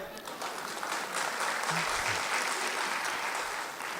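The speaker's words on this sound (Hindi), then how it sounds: "जो बात आपको अच्छी लगे तालियां जरूर बजाएं" Applause from the audience at a Hindi comic poetry mushaira in Roorkee, 2013: a steady, dense wash of clapping from a large hall crowd, with faint voices murmuring beneath it.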